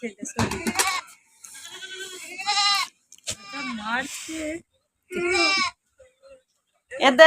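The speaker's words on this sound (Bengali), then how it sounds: "ছাগল" A goat bleats in short, wavering cries on a house rooftop, heard close and loud in several separate bursts with brief silences between, while people talk nearby.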